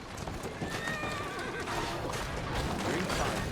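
A horse in the video game Assassin's Creed Syndicate whinnies with a high, wavering neigh, moderately loud and close, over a busy rustling background with faint thudding steps.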